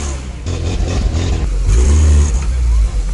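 A UAZ off-road vehicle's engine revs hard and loud nearby, rising in a throaty roar, with a voice speaking over it.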